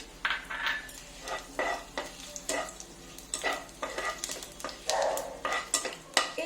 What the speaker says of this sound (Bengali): ঘি ফোড়ন দিয়ে একটা তেজপাতা একটা শুকনো লঙ্কা আর একটু জিরে